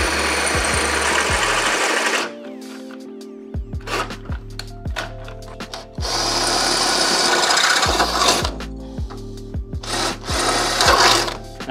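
A drill with a 1/4-inch bit bores out spot welds in the sheet-metal radiator support of a Toyota AE86, whining in several bursts of a few seconds each, grinding and chattering as it bites the steel, with quieter pauses between.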